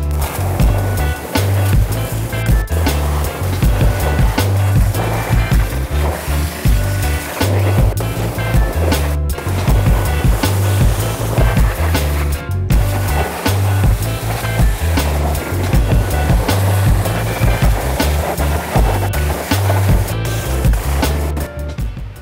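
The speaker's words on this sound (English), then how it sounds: "So up next is steam cleaning the engine bay." Steam cleaner blasting the engine bay of a 1960 Chevy Biscayne, a loud, steady hissing and spraying rush with a low rumble underneath, running continuously with a few brief breaks.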